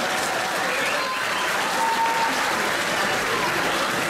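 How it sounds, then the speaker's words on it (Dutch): Sustained crowd applause for two fighters at an old-school martial arts event, a dense, steady wash of clapping filling the hall at even loudness throughout. "graag een sportief applaus voor beide vechters"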